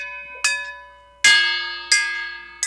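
A bell struck with a metal spoon gives four loud, close clangs, each with a bright metallic ring that slowly decays before the next strike, with no voices.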